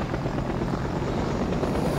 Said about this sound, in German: Jetzt nehmen wir schön den Hubschrauber.